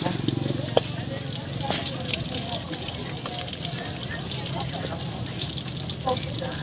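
Street stall deep-frying mixed snacks such as fish cakes, sausage and shrimp in hot oil, a steady crackling sizzle running throughout with stirring sounds, while people talk over it.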